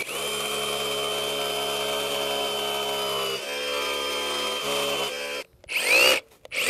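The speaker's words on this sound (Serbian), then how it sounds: "Namerno okrećem bušilicu ovako da biste vi malo bolje vidjeli. I evo kako 20 cm u betonu ona izbuši." A Hikoki DH 3628DA cordless rotary hammer drives a 6 mm bit into concrete, a steady loud hammering whine that changes pitch and then stops in two short bursts near the end.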